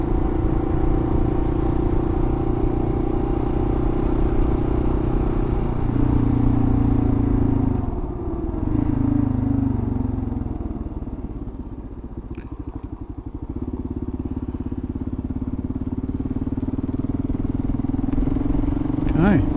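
A KLR adventure motorcycle riding on a paved road, its engine droning loud and steady with wind rumble, easing briefly midway before picking back up.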